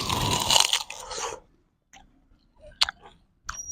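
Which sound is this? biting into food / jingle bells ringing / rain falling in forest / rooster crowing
biting into food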